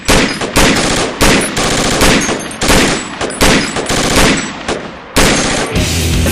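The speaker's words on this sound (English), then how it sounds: "Keep firing. Keep firing down range." Machine gun fire fired down range, heard as loud, close bursts of rapid shots separated by short gaps and repeating steadily, with no talking over it.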